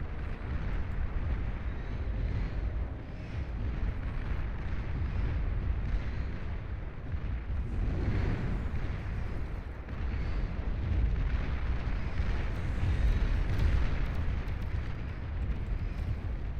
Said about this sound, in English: Czar firing away.